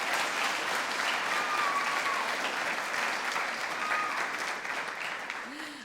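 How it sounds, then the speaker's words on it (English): A school concert audience at a spring band performance applauds the custodians, sustained clapping from a large crowd in a hall that holds steady, then thins and fades near the end. "So big round of applause for the custodians."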